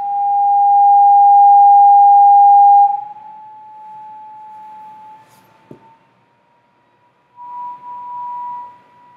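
A Chladni plate is driven by a pure sine tone that holds steady and loud, then drops in level and fades almost to silence. A sharp click follows before the tone swells back briefly near the end.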